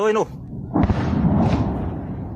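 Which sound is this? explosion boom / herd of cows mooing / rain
explosion boom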